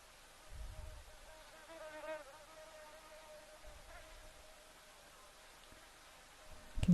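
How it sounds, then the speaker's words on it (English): Flies buzz close to the camera at an outdoor waterhole. The buzzing is faint and comes and goes in thin, wavering drones, with occasional low thumps and rustles in a quiet open-air background. "Can hear the flies buzzing here close to the camera"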